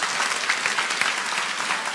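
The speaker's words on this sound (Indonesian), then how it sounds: "kita mesti harus tepuk tangan untuk Tuhan" A congregation clapping during a church sermon, continuous dense applause filling the hall, loud and even throughout with no speech.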